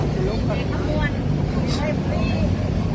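Boat engine running on a river trip in Laos, a steady low rumble close by under the whole stretch, with someone talking over it.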